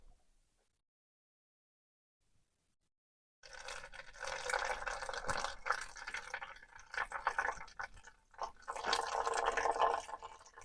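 Water drains and trickles out of a tilted generator after a quiet pause, a steady splashing, gurgling stream that starts abruptly and continues close by with uneven surges.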